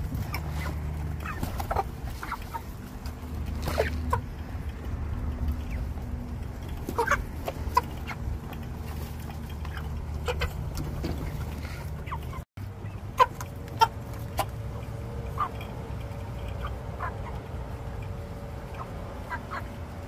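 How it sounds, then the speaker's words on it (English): Chickens cluck and squawk repeatedly nearby, with scattered sharper calls over a low steady hum. "Crazy chickens."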